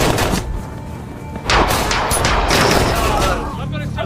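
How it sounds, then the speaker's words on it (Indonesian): Heavy automatic gunfire erupts in a film shootout, dense overlapping bursts building to a sustained barrage with booming low thuds, while a voice speaks faintly beneath. "musuh langsung menyerang dan menewaskan salah satu anak buah Frank hingga terjadilah baku tembak"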